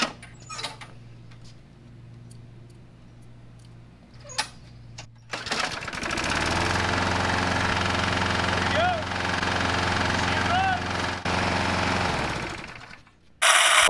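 Craftsman 21-inch walk-behind lawn mower with a freshly cleaned carburetor starting after quiet clicks and handling, then running loud and steady close by for several seconds before cutting off.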